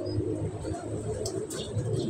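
A racing pigeon coos softly in a loft, low throaty murmurs repeating over a dull background hum, with a couple of faint higher chirps and no talk.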